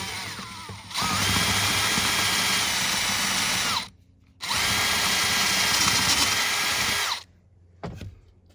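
Power drill redrilling a hole in a metal bed frame hinge in a Winnebago Travato camper van: two long, loud, steady whining runs of about three seconds each, separated by a short pause, then a brief final burst.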